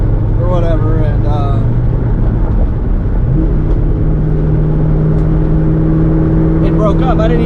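Steady engine drone from a Ford Mustang SN95 held at about 3,500 RPM, a sustained hum that steps up slightly in pitch partway through, with talking over it near the start and end.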